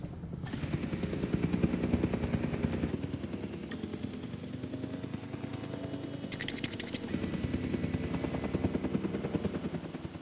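A helicopter flies in the dinosaur-park video game Jurassic World Evolution 2, giving a steady, loud rotor drone with chopping clatter that carries unbroken for about ten seconds, with no talking.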